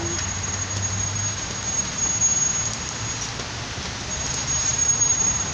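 Steady rain hisses without a break, a dense, even wash of falling water with no voices.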